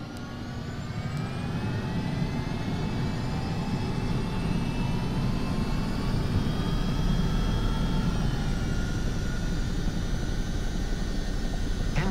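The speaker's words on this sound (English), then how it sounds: "Engine started. Preparing for takeoff." An aircraft engine in Microsoft Flight Simulator 2024 spins up and runs, a steady loud droning hum with whining tones that slowly rise and shift, continuous and alone throughout.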